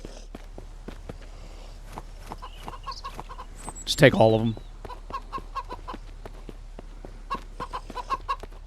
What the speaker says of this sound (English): Damn it, chicken.